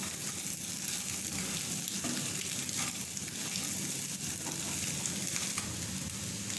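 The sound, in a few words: egg and ingredients frying and being mixed for fried rice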